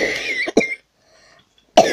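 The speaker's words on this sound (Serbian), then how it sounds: "Izvinite, ljudi malo kašljam." Two sharp, close coughs in quick succession from a person, followed by a short silence and then the start of a third cough, loud and near.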